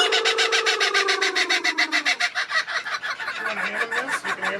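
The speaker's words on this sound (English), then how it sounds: "The next animal we saw was a kookaburra. Man, this thing's loud." A kookaburra at Gatorland calls loudly and close, a rapid rhythmic cackling series that starts with a falling tone and breaks into repeated pulsing laughter-like bursts, with no talk over it.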